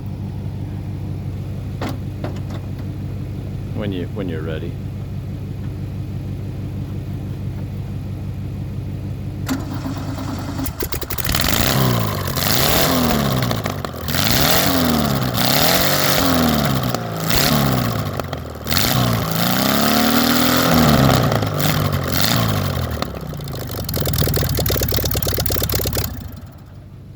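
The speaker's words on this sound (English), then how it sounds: "because the exhaust is off, there's a mandatory engine start" A car engine cranks and catches, then runs loud and raw with the exhaust removed, revving up and down in uneven bursts; a voice speaks briefly before it starts.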